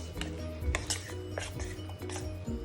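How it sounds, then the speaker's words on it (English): Utensils clink and scrape in a bowl while paneer tikka marinade ingredients are mixed, giving busy, close, irregular clatter and stirring with no talk. "Now you have to mix all the ingredients together."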